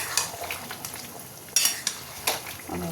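Fried potatoes stirred into sizzling chicken curry spice masala in a pan, a low steady sizzle with several sharp scrapes and clinks of a spoon against the metal, close and without talk.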